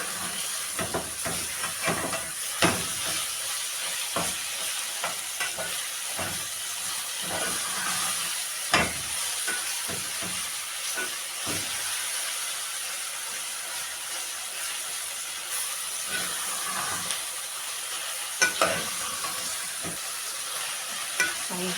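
Minced meat frying with salt and black pepper, a long steady hissing sizzle broken by repeated scraping stirs and spatula knocks as the meat is broken apart.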